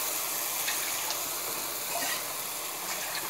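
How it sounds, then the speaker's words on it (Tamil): Water is poured from a cup onto rice in a pot for sambar rice, a soft, steady splashing gush heard close and alone for a few seconds. "போட்டுட்டு இந்த கப்பில் ஒரு கப்பு ரெண்டு கப்பு தண்ணி ஊற்றுறோம் அரிசிக்கு"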